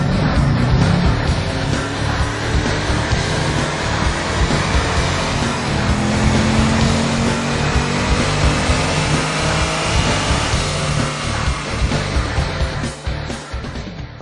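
2010 Chevrolet Camaro with an SCT tune on a dyno run, a loud, continuous engine roar under full load that holds steady for many seconds before easing off at the end, with no voices.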